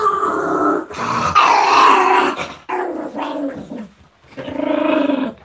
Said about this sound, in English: You're gonna hear him growl.